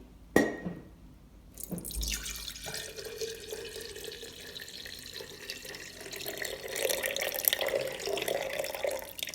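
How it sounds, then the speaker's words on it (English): Cooled tea being poured into a kombucha jar holding a SCOBY: a sharp clink at the start, then a continuous close liquid pour and trickle that swells louder toward the end, no talking. "if your tea is cooled down enough, you just add it to the container with your SCOBY"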